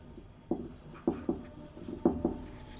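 Chalk or marker strokes on a board during a Hindi math lesson on cones and cylinders: five short scratchy taps at an uneven rhythm, close and moderately loud, with no speech over them.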